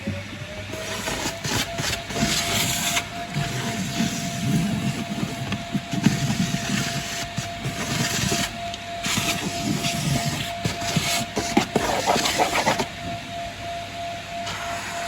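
A BigBoi SuckR Pro Plus vacuum cleaner runs on a utility floor with a constant motor whine over rushing airflow, and bursts of louder suction and rattling come and go as the nozzle moves.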